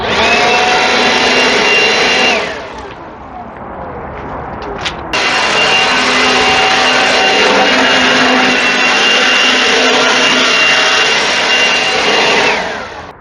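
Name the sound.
DeWalt 20V MAX XR cordless leaf blower running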